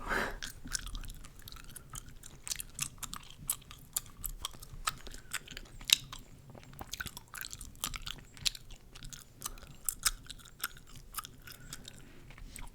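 Chewing gum is worked close to the mouth, producing soft wet smacks and clicks in a steady irregular rhythm throughout, intimate and quiet.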